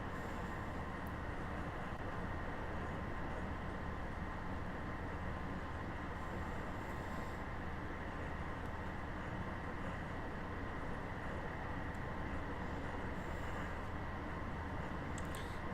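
A Class 158 diesel train runs in Train Sim World 4 on a Scotrail route, a steady, dense rolling rumble that holds at constant loudness throughout with no pauses.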